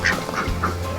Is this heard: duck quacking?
yes